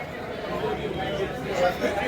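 Crowd chatter fills Terapanth Bhawan in Sujangarh, a steady babble of many voices close by with a nearer voice talking over it.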